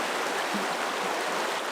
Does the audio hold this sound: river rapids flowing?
yes